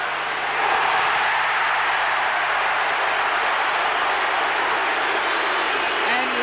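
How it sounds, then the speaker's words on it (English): A large stadium crowd at a 1990 Australian football match between North Melbourne and Collingwood roars continuously, a dense, loud wash of cheering and shouting that swells early and holds steady throughout. "Listen to the crowd going up for Brian Taylor."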